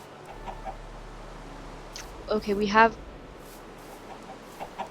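Chickens in the video game Minecraft give a few short clucks in the middle, moderately loud over a quiet background, with someone talking briefly at the start.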